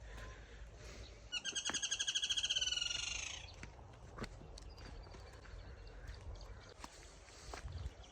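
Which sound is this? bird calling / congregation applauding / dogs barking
bird calling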